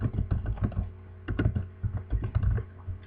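Someone types HTML anchor-tag code on a computer keyboard in short, close bursts of rapid key clicks separated by brief pauses, with no talking.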